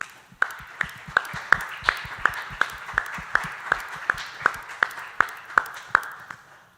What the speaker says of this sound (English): Round of applause for round 2